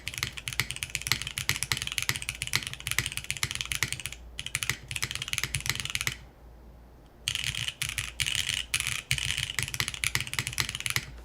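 Rapid typing on a Baucts Finn mechanical keyboard with an aluminum case, dense clacking keystrokes close up, with a short pause near the middle before the typing resumes.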